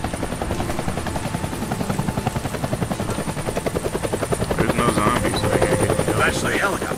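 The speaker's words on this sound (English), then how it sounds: "catch the helicopter chasing my friends" A helicopter in the video game Deadlight gives a loud, steady rhythmic rotor chop that continues throughout, with a voice talking over it.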